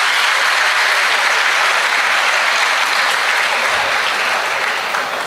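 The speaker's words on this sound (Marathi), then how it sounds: "सगळ्यांनी एकदा जोरदार टाळ्या वाजवा त्यांच्यासाठी." An audience at a Marathi poetry recital breaks into loud, sustained applause, a dense wash of clapping that fills the whole stretch without pause.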